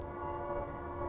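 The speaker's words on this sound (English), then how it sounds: "There's a train going by." A train passes at a distance, heard as a faint steady rumble with a sustained horn-like tone running through it, with no voices.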